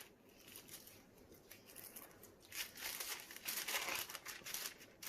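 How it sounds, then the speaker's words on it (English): Scissors snip and crinkle through a sealed plastic bag of iridescent cellophane, quiet soft crumpling that grows louder and denser in the second half, with no talk. "plastic bag. Just going to cut it open."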